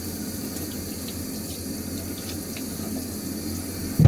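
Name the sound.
running tap water while wetting face for shaving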